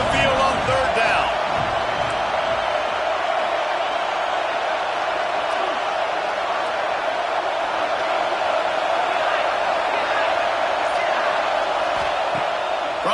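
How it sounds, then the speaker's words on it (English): Home crowd roar at an Oklahoma vs USC football game on third down, a loud, dense and sustained wash of stadium noise that holds steady throughout with no gaps. "Here comes this home crowd as the defense tries to get off the field on 3rd down."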